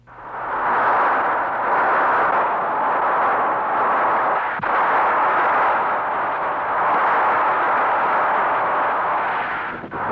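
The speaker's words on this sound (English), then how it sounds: "The developers of this new weapon call it the rapid fire minigun." A rapid-fire minigun unleashes a long, continuous buzzing roar of shots lasting about ten seconds, loud and unbroken apart from a brief sharp break midway, heard alone without voices.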